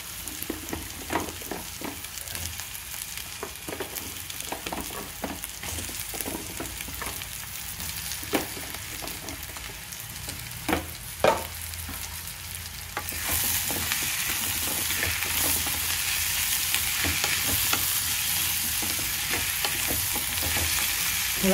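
Drumstick pieces stirred into a frying gram-flour curry, with a low sizzle and repeated scraping clicks of a spoon against the pan. Partway through, the sizzle swells to a louder, steady hiss. No speech.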